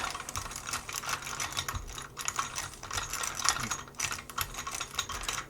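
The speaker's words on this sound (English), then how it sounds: "just give it a rakey rake. Just massage those pins in there." Raking lock pins with a KLOM brush rake pick while a tension tool holds the plug, a rapid, dense run of fine metallic clicks and scratches, close and steady.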